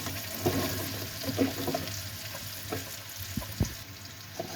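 Roughly chopped onions frying with whole spices in a pan for kali mirch gosht, a steady close sizzle with occasional stirring clicks and scrapes.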